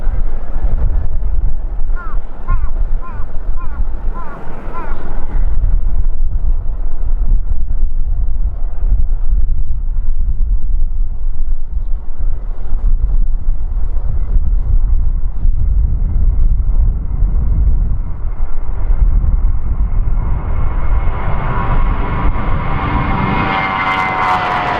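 Orange Liner 624, an airliner at Kagoshima Airport, takes off from runway 34 into a strong headwind. Its engines roar loud and steady under heavy wind buffeting on the microphone, and the pitch climbs toward a high whine near the end.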